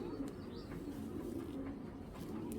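Soft, low cooing from pigeons kept at a fancy pigeon seller's loft, a continuous murmur of calls in the background with a voice speaking over them.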